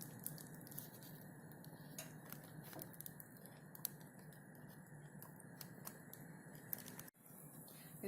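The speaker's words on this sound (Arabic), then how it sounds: "عبيت العجينه في كيس وهبدأ التقطيع." Zalabia (luqmat al-qadi) dough is cut as it is squeezed from a plastic bag, with faint, scattered snipping clicks over a quiet kitchen background.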